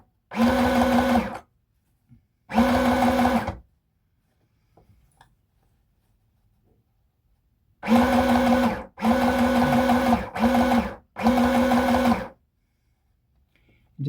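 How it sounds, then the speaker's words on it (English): Sewing machine gently stitching over a folded section of a red cotton skirt, running in several loud, steady bursts of a second or so each, separated by quiet pauses. "we're going to just sort of gently sew over this a little bit"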